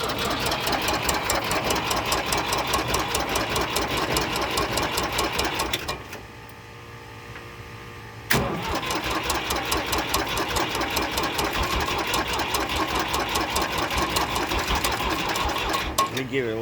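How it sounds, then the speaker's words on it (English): Old Ford 4500 backhoe diesel engine idling after a cold start on a near-freezing day, a loud steady rapid clatter with a brief pause in the middle before the chugging resumes. "I'm gonna do a little cold start video on this old Ford backhoe here"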